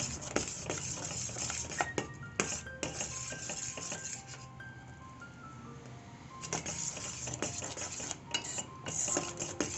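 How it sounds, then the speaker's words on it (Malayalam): Custard mixture stirred in a pan over a very low flame for caramel bread pudding, with steady scraping and clinking of a spoon against the metal, close and fairly quiet, with no talking. "അധികം കട്ട പിടിക്കാതെ നമ്മൾ ഇളക്കി കൊടുത്തുകൊണ്ടേ ഇരിക്കണം"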